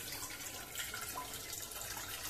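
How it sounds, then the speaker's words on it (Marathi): Water is poured into a pressure cooker before steaming mixed-pulse vadya, a faint, steady trickling splash that runs unbroken throughout, with no talk. "या कुकरमध्ये थोडस असं पाणी टाकूया"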